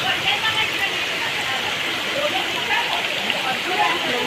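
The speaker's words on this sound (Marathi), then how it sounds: "कारण पाऊस अचानक आला आहे पूर्ण" Heavy, sudden rain pours steadily across a Konkan village, a dense continuous hiss of downpour drumming on surfaces, loud and close throughout with no break.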